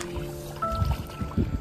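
A small wooden boat is pushed into the water, making a few low, close thuds and watery sloshes over a brief moment.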